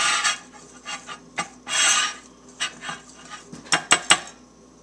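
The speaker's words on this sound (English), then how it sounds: "we're just going to take a whisk and just mix that together" A whisk scrapes and clinks against a bowl while flour, baking soda and salt are mixed for chocolate chip cookies, giving several short clattering strokes and a brief rubbing swirl, close by and fairly quiet.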